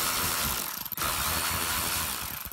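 A ratchet wrench loosens the two 10 mm nuts holding the carburetor on a Craftsman lawn mower, giving steady close clicking across the clip with a brief pause partway through.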